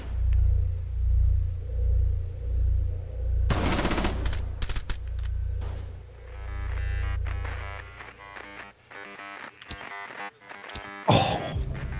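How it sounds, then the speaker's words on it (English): Gunfire in Rainbow Six Siege on the Consulate map: a burst of rapid automatic shots near the middle, then further sharp shots and a final crack, over low rumbling background. "Shooting up in the skylight."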